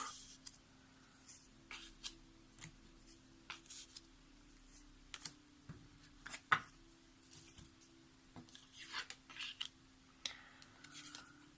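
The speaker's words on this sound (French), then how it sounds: "on va prendre les 5 cartes qui viennent à nous" Tarot cards drawn one by one from a deck, faint papery slides and soft flicks scattered irregularly over a quiet room, with small taps and shuffling between them.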